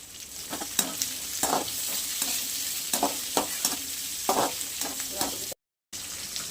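Onion and green chillies fry in a pan, a close sizzle broken by repeated spoon stirs and scrapes, with a brief gap of silence near the end.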